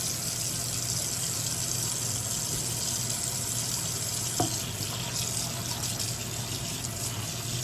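Cold water runs steadily from a tap, a constant close hiss of flowing water with a single brief clunk midway.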